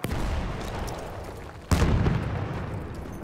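A grenade blast in the Battlefield 1 video game erupts suddenly midway, a loud close boom with a rumbling tail that follows steady battlefield background noise.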